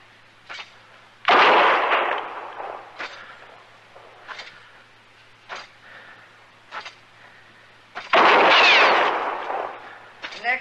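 Gunshots in a radio western drama set in the Old West, two loud close bangs several seconds apart with fainter clicks and knocks between them and no talking.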